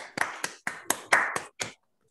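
A small online seminar audience claps after a mathematics talk, producing about seven separate sharp claps in an irregular rhythm, close and clear, then silence.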